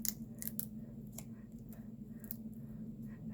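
Scissors snip a paper strip in several short, crisp cuts close by, with quiet pauses between strokes and no talking.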